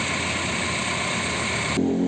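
Honda car engine idling after an oil change, a steady mid-pitched running hum with a slight shift near the end, no talking.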